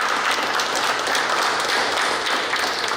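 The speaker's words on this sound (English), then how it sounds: "a round of applause again" An audience at a political gathering at Gaston Courts in Chaguanas claps, steady applause that is moderately loud and fills the whole moment without any voices.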